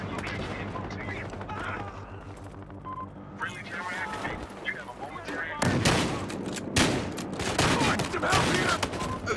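Shotgun blasts in Battlefield Hardline, several loud, sharp bursts separated by short gaps, with a busy firefight around them and voices speaking over the action.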